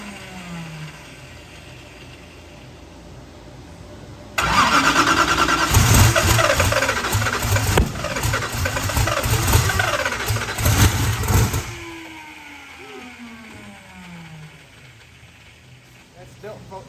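Car engine cranking while the fuel pump primes, a loud sustained churning starter burst of several seconds that then cuts off, with quieter mechanical hum before and after and a voice speaking nearby.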